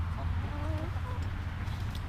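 Chickens released from their coop into a run, clucking and murmuring softly at a moderate distance over a steady low rumble, with a few brief higher calls and no talking.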